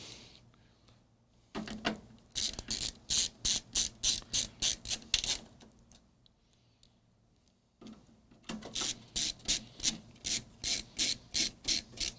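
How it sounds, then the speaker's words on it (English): A screwdriver drives the last screws into a Commodore PET, two series of rapid rhythmic ratcheting clicks, close and clear, separated by a quiet pause. "let's put the last 2 screws in"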